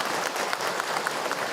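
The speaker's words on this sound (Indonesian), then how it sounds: "Oke, tepuk tangan buat Ayah Hilman ya." A lecture audience at an Islamic talk breaks into a short burst of dense, steady clapping, a brief wash of many hands heard from within the room, with no voices over it.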